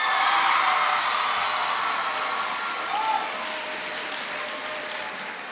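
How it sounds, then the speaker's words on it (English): An audience claps steadily for a host named Kelly, giving a broad, sustained wash of applause. It holds at nearly the same level throughout and fades only slightly toward the end. "Give Kelly a big round of applause"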